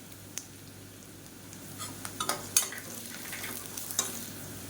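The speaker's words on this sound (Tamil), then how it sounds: "வெங்காயம் நல்லா பொன்னிறமாக வதங்கட்டும் இது கூடவே ரெண்டு வரமிளகா சேர்த்துக்கலாம்" Onions, dried red chillies and garlic sautéing in a pan for a cauliflower dish, a soft continuous sizzle with scattered clinks and scrapes of a utensil stirring, close but fairly quiet.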